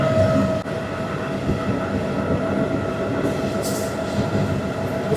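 A train running fast between Palakkad and Walayar through the Western Ghats rumbles steadily with strong wind noise rushing past, a continuous loud roar with faint wheel squeal, no talking.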